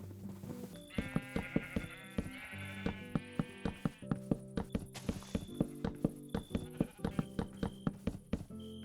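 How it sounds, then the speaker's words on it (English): Sheep bleat repeatedly in a video game over a busy run of rhythmic clopping, clicking taps and bright tones, several calls close together, with no talk. "Alright, I got all the sheep rounded up."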